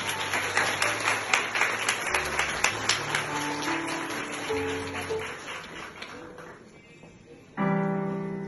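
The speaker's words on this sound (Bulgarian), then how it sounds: "Аплодисменти за Валерия Георгиева." An audience applauds at a charity performance with a fairly faint, rhythmic clapping that fades after a few seconds, followed by a sustained tonal music chord starting near the end.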